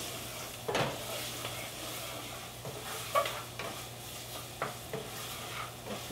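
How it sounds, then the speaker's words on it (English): Onions browning in a hot pan for a Kenyan tomato gravy, giving a steady close sizzle broken by occasional stirring scrapes and utensil knocks against the pan. "Just brown the onions a little bit"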